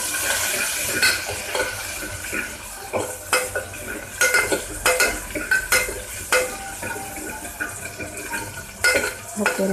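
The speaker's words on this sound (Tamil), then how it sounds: "அரைஞ்சி வச்சுருக்க சின்ன வெங்காயத்தை போட்டுக்கோங்க. போட்டுட்டு நல்லா ஃப்ரை பண்ணி விட்டுக்கோங்க." Ground shallots frying in a pan for tiffin sambar, with a steady sizzle broken by repeated scraping strokes of a spoon against the metal pan, close and fairly loud, with no talking.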